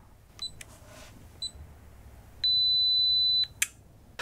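A cheap old digital camera set up for film scanning runs its self-timer: two short beeps spaced about a second apart, then a sustained one-second tone, followed by the quick mechanical click of the shutter firing over faint room hum.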